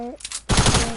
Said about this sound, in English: So I advise using the AR